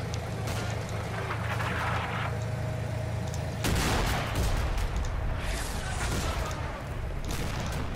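Gunfire in the military video game Combat Mission Shock Force 2, with a steady rumble of vehicle engine underneath, scattered shots crackling throughout and a heavier burst of fire from about the midpoint on.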